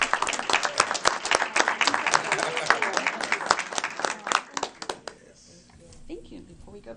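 A school board meeting audience applauds a Purple Star elementary school, with dense, steady clapping from many hands for about five seconds before it fades out and a voice comes in at the end.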